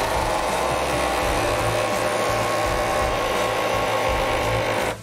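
A pneumatic impact wrench runs on compressor air against a nut, giving a loud, steady, unbroken whir that holds for about five seconds and then cuts off, with no talk.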